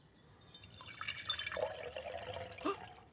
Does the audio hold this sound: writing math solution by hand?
no